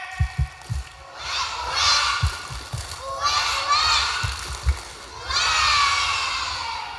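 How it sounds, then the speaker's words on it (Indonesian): A group of children at a mosque Isra Mi'raj gathering clap in quick bursts and shout together loudly in the duck clap game, their voices swelling in waves with dull thumping claps underneath. "Tepuk bebek, tepuk tangan 3 kali. Tak tak tak, kuek kuek, kuek kuek, kuek."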